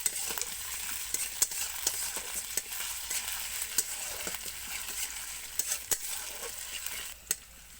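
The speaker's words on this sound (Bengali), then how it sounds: "আদা বাটা দিয়ে কিছুক্ষণ আদাটাকে কষিয়ে নিতে হবে।" Ginger paste sautéing with already fried onions in a pan for a light fish curry: a soft, continuous sizzle with frequent stirring clicks and scrapes at a steady pace, and no voices.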